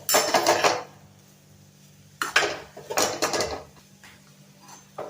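Grated coconut and ghee being mixed in a pan, with bursts of metallic scraping and clattering from the spoon against the pan, separated by quiet pauses, close up.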